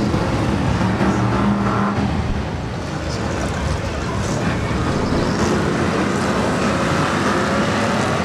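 V8 stock cars racing on an oval track at Mildenhall, a loud continuous roar of engines that blurs into a dense wash, with a faint voice underneath.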